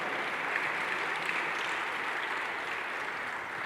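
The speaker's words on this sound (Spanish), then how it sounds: "dale fuerte ese aplauso" A congregation at a church leadership conference applauds, a steady, fairly faint wash of clapping that holds evenly throughout without voices on top.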